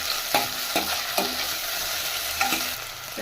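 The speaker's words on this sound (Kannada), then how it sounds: "ಈರುಳ್ಳಿ ಗೋಲ್ಡನ್ ಕಲರ್ ಚೆನ್ನಾಗಿ ಫ್ರೈ ಮಾಡ್ಕೋಬೇಕು" Chopped onions fry in hot oil with spices for a Bangalore-style mutton donne biryani, with a steady sizzle and a few sharp stirring scrapes at irregular intervals.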